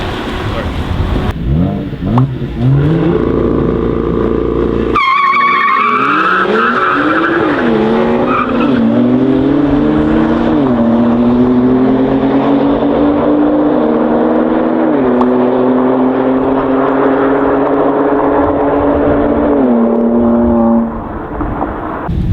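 BMW M2 Competition cars in a drag race, engines roaring loud and steady with rising, stepping pitch as they accelerate through gears over about fifteen seconds, preceded by tire screech, before cutting off near the end.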